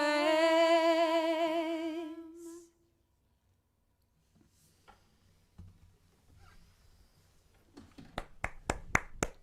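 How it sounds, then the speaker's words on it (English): A long sustained sung note fades into near silence, then scattered small sounds give way to a brief burst of a few sharp claps from a small audience at an intimate parlour music session. "You had to hear some applause."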